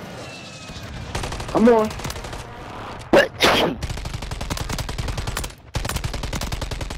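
Rapid bursts of automatic gunfire in Warzone on Rebirth Island, loud and close, run through most of the stretch with brief pauses, while players shout over the shooting.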